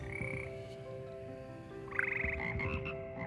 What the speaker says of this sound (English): Singing toads.